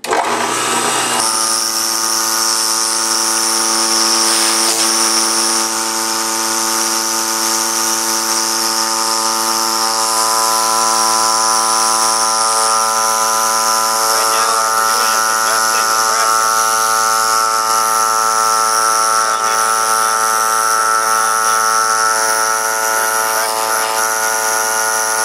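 Steady electric air compressor running for spraying sheetrock texture, a loud continuous motor hum with a strong even whine that holds unchanged throughout, close by with no breaks.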